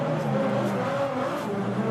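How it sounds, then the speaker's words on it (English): A Formula Drift RTR Ford Mustang Spec 5 drift car roars steadily at a distance at a pro drifting event, a continuous engine drone with faint tire noise and no talk. "A big fan favorite, Adam LZ, in his RTR Ford Mustang Spec 5 FD."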